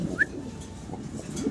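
A large running pigeon at a seller's place gives soft, low cooing murmurs close by, with a brief higher chirp early on and faint background noise.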